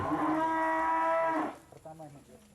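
Cattle moo loudly and close at hand in one long, sustained call, then quieter farm background sounds follow in a setting where cows are bred by artificial insemination.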